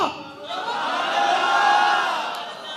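A large crowd at a milad gathering shouts together in a swelling, sustained roar that rises and then fades, sounding loud and somewhat distant.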